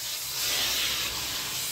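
A steam cleaner hisses steadily and loudly while cleaning upholstery on a sofa, a continuous broad airy rush with no talk over it.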